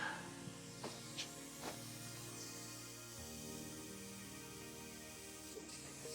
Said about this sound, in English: What I'm doing is kind of spraying out some of that yellow so I don't have to add as much.